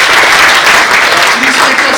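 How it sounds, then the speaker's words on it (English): An audience at a leadership awards ceremony applauds, a dense, loud wash of clapping that carries on steadily from start to finish. "So I would like this audience to applaud for you."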